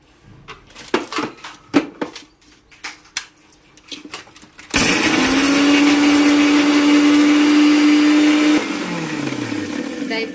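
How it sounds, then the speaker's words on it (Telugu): After some clattering and knocks, a mixie grinding salt, garlic and dried red chillies starts up loudly, holding a steady high motor whine for several seconds before it winds down. "ఉప్పు, కొంచెం వెల్లుల్లిపాయ, ఎండుమిరపకాయలు వేసి మిక్సీ వేసే."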